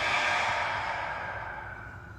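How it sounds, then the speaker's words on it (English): A long, deep exhale releasing a held breath during a guided yoga breathing exercise, a soft airy sigh close to the mic that fades gradually over about two seconds, with no talking. "Hold the breath. And exhale, let it go."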